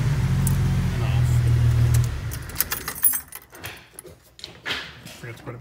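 A Jeep YJ engine idles with a Teraflex hand throttle fitted, giving a steady low rumble for about two seconds. The rumble then gives way to close rattling, jangling and handling clatter.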